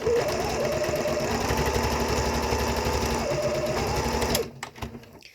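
A sewing machine hums loudly and steadily while stitching fabric for underwear, running without a break for over four seconds before stopping, then light handling noises.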